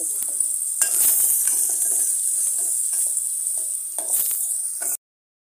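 Garlic and turmeric fry in a pan for a Maharashtrian leafy vegetable dish, giving a loud, steady sizzle with the scrape of a spoon stirring at intervals, close by, before the sound stops abruptly.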